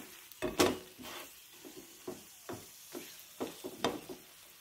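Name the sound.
onion paratha frying in a pan until golden brown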